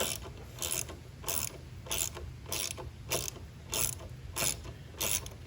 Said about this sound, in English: Use the ratchet set and go ahead and grab me a size 10 and see if I can take those bolts out